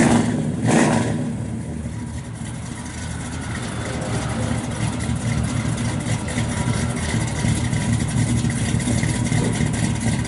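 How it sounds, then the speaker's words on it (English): A 1964 Pontiac LeMans convertible with a 455 engine runs close by, a loud low rumble with a quick rev early on, then steady idling. "Real zippy motor in the thing."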